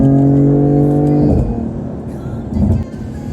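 A 2018 BMW M4 Coupe engine held high in third gear, a loud steady tonal drone that drops off sharply into a rougher, quieter overrun rumble with faint popping.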